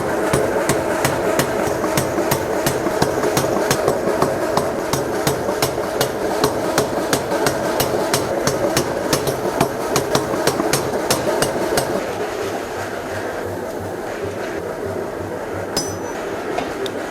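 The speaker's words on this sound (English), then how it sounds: "I need to get this power hammer warming up" A power hammer forging steel pounds in a fast, steady rhythm of sharp metallic blows, loud and close, then stops, leaving a low mechanical hum.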